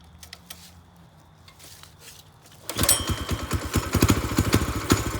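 A Predator 212 small engine fitted to a quad, on full choke, is started with a pull cord. After quiet fumbling and faint clicks, it fires up and runs with a loud, rapid, close putter.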